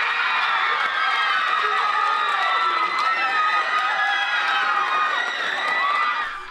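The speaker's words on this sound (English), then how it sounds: "Crowds cheered when Taylor's name was announced" A crowd cheers, whoops and shouts at a student body election announcement as the winning presidential candidate is named. The roar stays loud and dense throughout and tails off slightly near the end.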